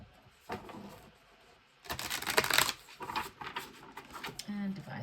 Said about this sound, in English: so we'll do one final shuffle